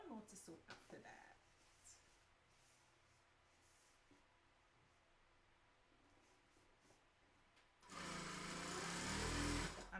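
A sewing machine stitching a tutu runs loud and steady near the end, after a stretch of quiet room noise with brief bursts of talk at the start.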